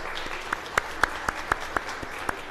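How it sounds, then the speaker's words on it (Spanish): A conference audience claps for a speaker just introduced at a keynote lecture, a steady patter of hands with a few sharper, louder claps standing out at regular moments, fairly close and filling the room. "Un aplauso, por favor, para Daniel."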